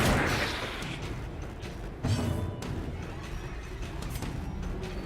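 Video game gunshots and impacts, a dense series of loud booming cracks with a strong hit near the start and another around the middle, over continuous rumbling combat noise.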